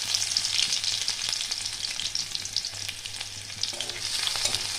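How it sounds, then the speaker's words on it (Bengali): Black cumin, a dried chilli and crushed garlic frying in mustard oil, giving a steady close sizzle with scattered pops and crackles and light stirring throughout, with no voices. "এটা একটু ভালো করে ভেজে নিতে হবে।"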